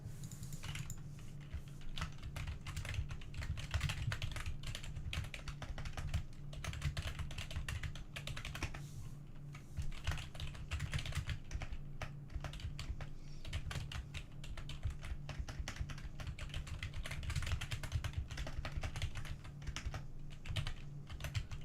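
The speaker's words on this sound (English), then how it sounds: "I'm just typing in a stream" Steady computer keyboard typing runs the whole time, a dense stream of soft clicks over a constant low hum, fairly close and moderately loud, with no talking.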